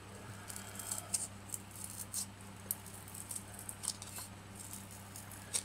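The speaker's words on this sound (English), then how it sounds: "I'm going to attempt to cut it" Scissors snipping through thick foam for a mini princess crown, a steady run of soft, crisp cuts over a low background hum, close and fairly quiet.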